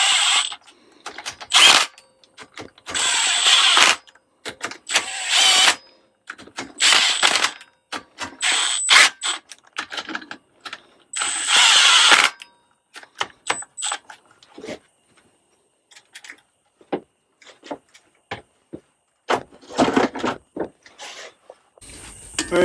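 Running down bolts by hand during a Craftsman YT3000 engine rebuild, bursts of rapid ratchet clicking close up, alternating with pauses and scattered metallic clicks and clinks.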